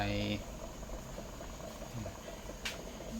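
Coconut milk just beginning to boil in a pot for a Thai fish curry sauce gives off a soft, steady bubbling and gentle popping, quiet and close, with a few brief clinks over it.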